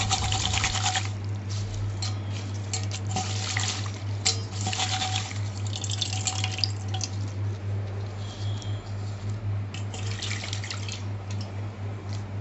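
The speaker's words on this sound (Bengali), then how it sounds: "ফুল টুল বেছে নিয়ে বেলপাতা ধুয়ে দেখো" Bel leaves rinsed under running water: close splashing and trickling, with drips and small knocks against a container, over a steady low hum.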